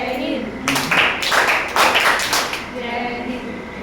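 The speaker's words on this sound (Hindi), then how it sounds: "आज मैं आपको जय हिंद ताली सिखलाती हूँ" Schoolchildren in a nursery class perform the rhythmic Jai Hind clap, giving several bursts of loud group clapping mixed with children's voices and chatter.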